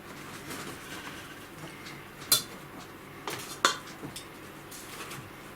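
Leftover potting soil tipped out while planting a vanilla orchid, with a metal spoon clinking and scraping against a pot: a soft, quiet rustle broken by a few sharp clinks in the middle of the clip.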